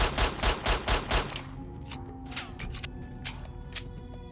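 Rapid bursts of automatic gunfire in S.T.A.L.K.E.R. Shadow of Chernobyl, a quick string of loud close shots followed by scattered fainter single shots and clinks over a murky in-game background.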